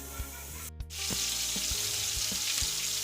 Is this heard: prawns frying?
yes